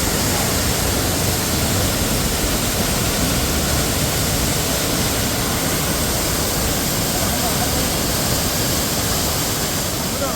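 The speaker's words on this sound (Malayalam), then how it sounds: "ഇത് വളഞ്ഞങ്ങാനം വെള്ളച്ചാട്ടം കേട്ടോ, വാട്ടർഫോൾ ആണ്." Valanjanganam waterfall beside the Munnar road gives a steady, loud, broadband roar of rushing water that fills the whole stretch without pause and with no voices.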